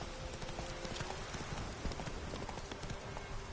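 Roach the horse gallops in The Witcher 3, a rapid, continuous run of hoofbeats over a noisy outdoor bed of wind and rain-like hiss.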